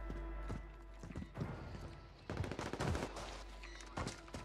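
An SMG fires in Call of Duty in sharp, rapid bursts that start and stop, with short gaps between volleys. The shots sound close and punchy.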